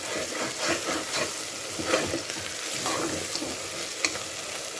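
Masala sizzles and fries in hot oil for a mutton trotters curry, a continuous dense crackle with occasional stirring scrapes and small pops, close and fairly loud.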